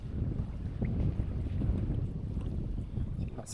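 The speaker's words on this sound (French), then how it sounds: "Il y a vraiment beaucoup de vent." Strong wind buffeting the microphone on an open lake while fishing for bass and pike from a boat, a loud, constant low roar with gusty rumble throughout and no talk.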